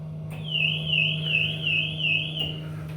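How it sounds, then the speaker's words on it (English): An elevator alarm bell rings continuously for about two seconds with a warbling tone, heard from inside a stalled Otis elevator car over a steady low mechanical hum, then stops. "I keep pushing the alarm button."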